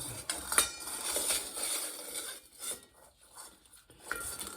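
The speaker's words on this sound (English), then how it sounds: "Just scrape this." Scraping grime from a bicycle chain inside a bowl: a run of short, rough rasping strokes, close and fairly quiet, with brief pauses between scrapes.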